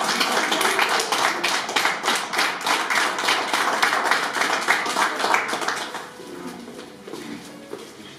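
Guests at a civil wedding ceremony applaud the newlyweds, a dense burst of clapping that carries on for several seconds, then thins out and fades toward the end.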